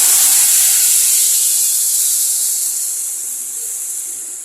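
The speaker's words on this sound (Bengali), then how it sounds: "এর ভেতরে যে পেস্ট করে রেখেছিলাম টমেটো আর আদার, সেটা দিয়ে দিচ্ছি।" Tomato and ginger paste hits hot mustard oil in a pan and sets off a loud, steady, close sizzle that eases slightly toward the end.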